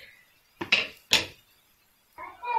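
An egg is cracked into a frying pan: two sharp, close taps of shell on the pan edge, a short pause, then the hiss of the egg beginning to sizzle.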